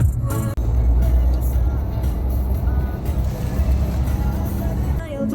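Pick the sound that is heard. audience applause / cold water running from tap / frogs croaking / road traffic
road traffic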